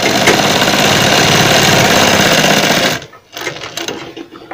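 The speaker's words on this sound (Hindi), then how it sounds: "पट्टी को इस तरह से लौट के और हम सिलाई लगा लेंगे" A sewing machine runs steadily, stitching a folded quarter-inch fabric strip onto a sleeve, loud and continuous for about three seconds, then stops, leaving softer handling noises.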